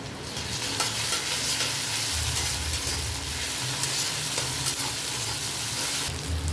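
Ground cumin and green chili fry in a pan of reddened onions, sizzling steadily and loudly while a utensil stirs them. The hiss never stops and no one talks.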